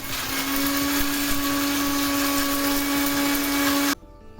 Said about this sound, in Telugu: మిక్సీలో పౌడర్ చేసుకుందాం